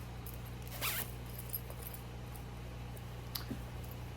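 The interior zipper pocket of a fabric craft bag is unzipped in one quick, close rasp, followed by a few faint clicks and rustles against a low steady hum.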